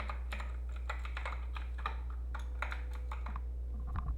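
Computer keyboard typing as code is written, a steady patter of irregular key clicks over a low constant hum, close and fairly quiet, with no voices.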